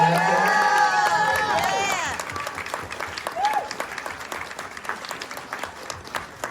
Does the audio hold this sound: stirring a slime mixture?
no